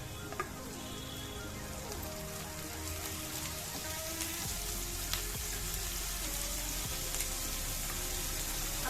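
Green chillies and onions frying in a pan, a continuous close sizzle with crackling spatter that holds steady throughout, no voices.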